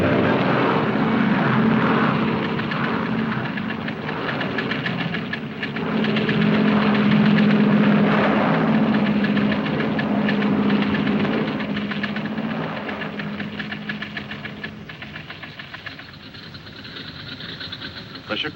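A 1940s propeller airliner flies on a New York-bound trip, its engines droning in a loud, steady roar that holds for most of the stretch and eases slightly toward the end.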